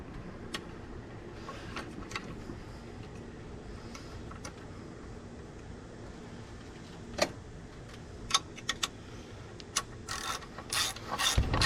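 A ratchet wrench tightens the water pump bolts on a 2009 Ram engine block. Quiet, steady mechanical clicking is followed by a few louder, sharper clicks near the end, close up and with no talk.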